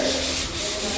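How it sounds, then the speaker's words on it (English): Steady abrasive rubbing of sandpaper on a room ceiling during house building, close and loud, a brief continuous scratchy hiss with slight swells. "Just doing some sanding at the moment, getting ready to add more paint up on the ceiling in this room."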